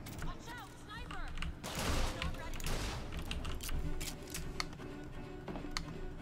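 Gunfire in BioShock Infinite crackles in rapid clustered shots and volleys over game ambience, with a louder burst early on and sharp scattered cracks after, while a voice talks intermittently.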